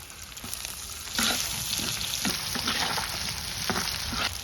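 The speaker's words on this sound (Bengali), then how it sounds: "তেলটা গরম হয়ে গেছে, এখন চিংড়ি মাছটা দিয়ে দিব।" Fresh canal shrimp, seasoned with turmeric and a little salt, sizzling steadily in hot oil in a wok, a continuous crackling fry that grows louder partway through, with occasional stirring scrapes.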